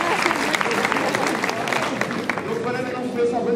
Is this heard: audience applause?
yes